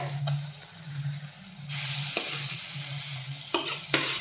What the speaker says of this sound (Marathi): आणि आता हे छान परतून घेऊयात